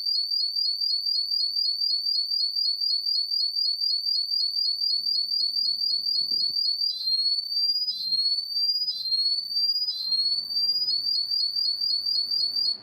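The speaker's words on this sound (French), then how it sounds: "Je lance la sirène, alors attention aux oreilles" A loud, piercing electronic siren alarm from a Netatmo smart outdoor security camera repeats rapid rising beeps nonstop, briefly shifting to slower sweeps midway, with faint handling noises beneath.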